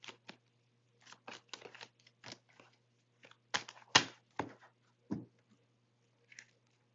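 Tarot cards are shuffled in quick, soft, papery riffles and snaps, close and quiet, coming in irregular bursts with pauses in a still room.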